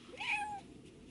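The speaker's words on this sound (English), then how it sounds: "But she's been meowing the whole time." Cat meowing from the back of a moving car, a single drawn-out rising then falling meow, fairly faint over low road hum.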